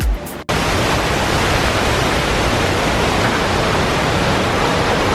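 A roaring waterfall about 135 feet tall gives off a loud, dense, unbroken rush that fills the whole clip after a brief quieter moment at the start.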